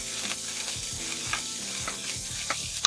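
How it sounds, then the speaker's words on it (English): Onions and garlic sautéing in a pan, a soft continuous sizzle with intermittent stirring scrapes, close and fairly quiet, no talking. "I'm just sauteing the onions first until they are a little bit soft and tender."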